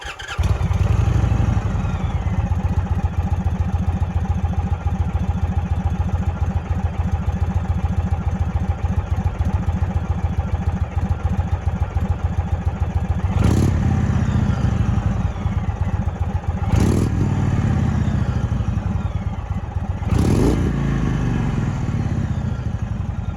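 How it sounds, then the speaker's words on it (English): An Indian Chief motorcycle starts, then settles into a loud, close, steady rumbling idle with a throbbing exhaust note, with three brief throttle blips in the back half. "let's hear that exhaust note"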